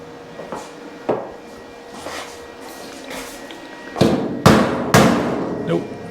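Several sharp metallic taps of a tool on a part of a Honda Type R-based mini supercar build, spaced irregularly and growing louder toward the end, with a quiet room in between.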